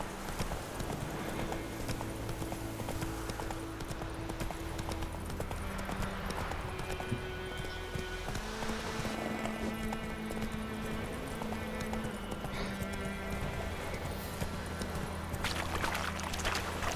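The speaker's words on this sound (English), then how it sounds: "Run, Roach." Horse hooves clip-clop steadily at a gallop in The Witcher 3: Wild Hunt, a continuous rhythmic pounding over game music and ambience, with a faint whinny mixed in.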